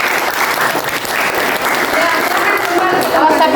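Applause from a classroom of students fills the space, a dense steady patter of clapping held at an even, fairly loud level, with voices mixed in through the noise.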